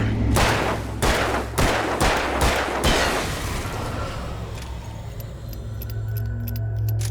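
Gunshots in the Alan Wake video game: six sharp, loud reports at uneven intervals over the first three seconds, followed by a low rumbling hum and faint clicks.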